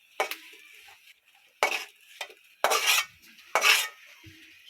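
A spatula scrapes and clinks against a pan while a fried egg is lifted out, in four or five short metallic bursts separated by quiet gaps.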